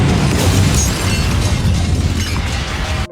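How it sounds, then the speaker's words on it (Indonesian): A loud explosion in the anime The Fable fills about three seconds with a dense, roaring blast of noise that stays heavy and close before cutting off abruptly. "Dan ledakan pun terjadi."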